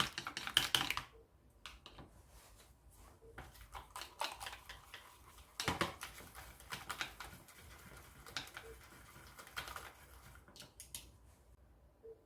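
Eggs seasoned with a little salt being beaten in a bowl, producing quick irregular clicking taps in short bursts, close and fairly faint, with small pauses between strokes.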